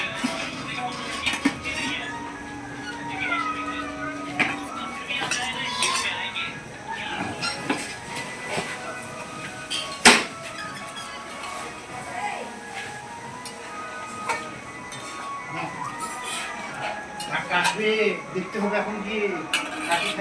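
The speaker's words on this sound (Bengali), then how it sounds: "ঢাকাটাকে তুলে মাংসটাকে নেড়ে ফেলছি।" A metal lid lifts off a pot and a spoon stirs mutton during home cooking. Scattered clinks and scrapes, with one sharp clang midway, sound over a busy kitchen background with some voices.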